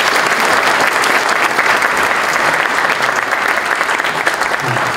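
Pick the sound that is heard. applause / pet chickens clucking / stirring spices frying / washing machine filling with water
applause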